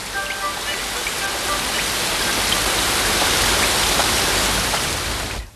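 Heavy rain falls steadily as a dense, loud, even hiss of drops striking surfaces, with no break and no voices.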